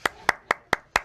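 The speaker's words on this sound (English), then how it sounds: "Clap for that." Five sharp hand claps in a steady rhythm, close and crisp, from a stage crowd egging on applause at a gaming press event; no talk over them.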